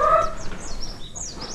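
Rhode Island chickens in a backyard flock give short overlapping clucks and calls, moderately close, with a steady outdoor background and no speech.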